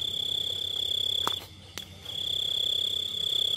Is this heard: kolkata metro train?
no